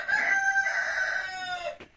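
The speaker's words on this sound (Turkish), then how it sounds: "Oh, horoz öttü." A rooster crows once in a long, loud, wavering cock-a-doodle-doo close by, in a village yard amid green scrub and oak wood, with no talk.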